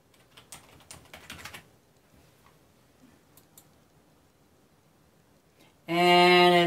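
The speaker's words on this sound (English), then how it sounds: "That's when I'll type in my name." A name is typed on a computer keyboard while a new PC is being set up: a quick burst of close keystrokes lasting about a second and a half, then a few scattered taps. A loud synthetic tone cuts in at the end.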